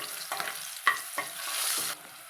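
Green chillies and turmeric frying and stirred in a pan for an egg and garlic-chilli dish, a close sizzle broken by a few quick spatula scrapes over a couple of seconds.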